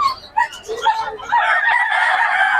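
Chickens and roosters at a poultry market in Bocaue, with clucking and crowing calls layered over a busy crowd, close and fairly loud, with some talking mixed in.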